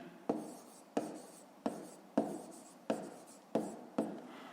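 A pen writes down a math answer in several evenly spaced strokes, each starting sharply and then trailing off as a soft scratch, close and quiet, with no talking.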